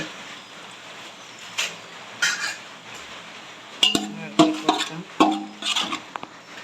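A metal spoon scrapes and clinks against a biryani pot while onions and tomato are stirred in ghee and oil, with scattered sharp knocks in the second half over a low background hum.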